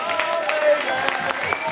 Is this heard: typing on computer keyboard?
no